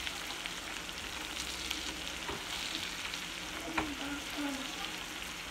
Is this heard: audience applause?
no